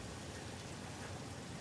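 Rain falls steadily in the video game Satisfactory, a constant soft hiss and patter with no break, faint and evenly spread, with no talk over it.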